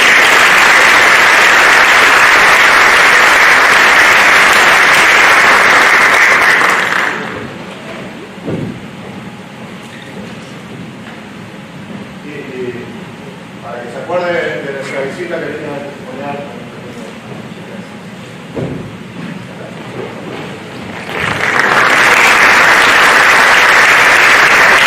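Loud, dense audience applause fills a conference hall at the close of a talk on geopolitics and international security, fades out under a stretch of quiet speech, then swells back to full volume.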